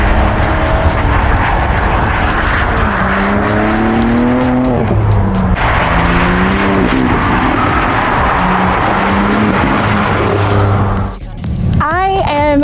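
Tuned car driving back and forth in laps around a shop: loud, close engine roar with rising and falling revs, tire squeal, then a sharp rev climb near the end.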